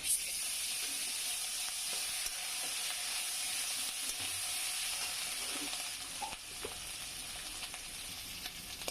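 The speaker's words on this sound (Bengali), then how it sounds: "পেঁয়াজটা ভাজা হয়ে গেছে আমি একটু আদা রসুন দিয়ে দিব" Ginger and garlic added to fried onion in a pan, giving a constant, fairly quiet hiss of oil sizzling with faint crackles and stirring, no voices.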